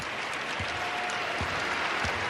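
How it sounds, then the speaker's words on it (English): Basketball fans at a Creighton versus UConn women's game applaud as a steady broad wash of crowd clapping, distant and even, with a few low thumps under it. "And fans giving applause."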